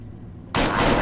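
A single loud gunshot from the Fallout video game, bursting in abruptly after quiet low rumble and ringing out with a broad, sustained blast.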